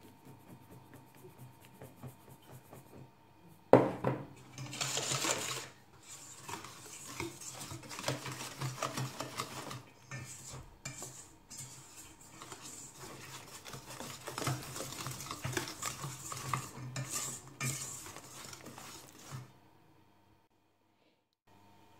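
Flour is worked into stiff M&M's cookie dough in a bowl, producing close, uneven scraping and knocking strokes against the bowl, starting with a sharp clatter and continuing for about fifteen seconds before stopping.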